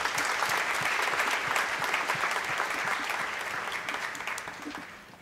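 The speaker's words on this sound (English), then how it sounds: "Please give them a big round of applause." Sustained audience applause fills a valedictory function at the 22nd Justa Causa 2025, a dense, steady roar of many hands clapping at once that holds evenly before slowly thinning toward the end.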